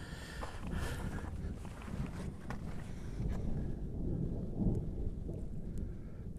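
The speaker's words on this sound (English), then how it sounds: "Thunder and lightning coming in." Low rumbling thunder from an approaching storm with lightning over Skinwalker Canyon at Lightning Springs Ranch, rolling faintly and steadily beneath wind noise, with no voices.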